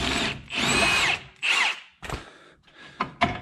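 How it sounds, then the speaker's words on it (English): A Milwaukee power tool busts loose the lower shock bolt on a 2006-2014 Honda Ridgeline, several short loud bursts of whirring and rattling hammering separated by pauses, close up with light metallic clunks after. "I'm gonna use my trusty Milwaukee to bust these loose"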